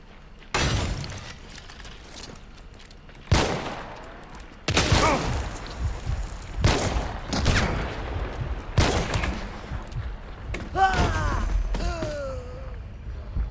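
Several sharp gunshot bursts crack out at irregular intervals, loud and close, with echoing booms and a few whooshing game sound effects between them.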